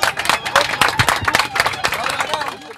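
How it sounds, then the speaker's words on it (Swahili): A crowd of CCM delegates and diaspora members gives a sustained burst of clapping for Kadogosa after arriving in Dodoma on the SGR train. The dense, steady applause is mixed with crowd murmur and some cheering. "Makofi kwa Kadogosa"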